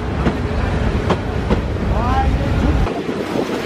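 A train rumbles at Sitakunda railway station with a loud, continuous low roar and some rattling clatter. Near the end a short rising squeal is heard, and then the roar cuts off abruptly.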